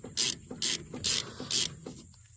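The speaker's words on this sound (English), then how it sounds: "I'll finish with this stubby ratchet." Stubby ratchet clicking as it backs out a brake caliper bolt on a 2008 Chevy Impala, four evenly spaced bursts of ratcheting close up, each about a fifth of a second, with no talk.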